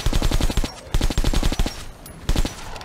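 Rapid automatic gunfire from Metro Last Light, fired with military-grade ammo, comes in three loud close bursts of evenly spaced shots separated by brief pauses.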